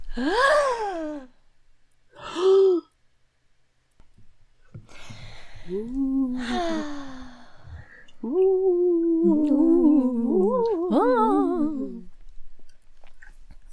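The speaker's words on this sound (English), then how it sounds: "both her friends gasp" Two friends gasp in sharp, breathy bursts, several separate gasps and sighs with voiced rising and falling tones, close and clear against near silence between them.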